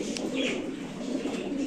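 Pigeons coo softly in a low, murmuring rumble, with faint chirps over a steady background.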